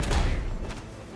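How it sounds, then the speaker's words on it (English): A bomb blast in Genshin Impact, a single close, heavy thud with a deep low-end punch at the start that quickly decays into a softer rumbling tail. "Uy, may bomba."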